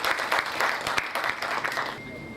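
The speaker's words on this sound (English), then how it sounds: "So, a big round of applause for that." Audience applause at a Women's Day event, a dense burst of clapping filling the hall for a couple of seconds and tapering slightly at the end.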